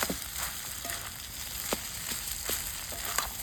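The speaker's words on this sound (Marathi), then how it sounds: "व्यवस्थित मिक्स करून घेऊ राईस आपण." Rice being stirred into eggs and thecha chili paste in a hot pan, giving a steady sizzle with a few light scraping strokes, close and moderately loud, no talk.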